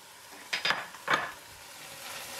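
Uncooked rice is poured into a pot where beef and vegetables are frying, giving two short rattling, sizzling bursts over a quiet, steady fry.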